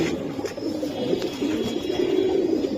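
Pigeons at a pigeon market, among them pankhi and silver giribaj breeds, coo in a steady low murmur of overlapping calls that fills the whole stretch at close range, with no voices.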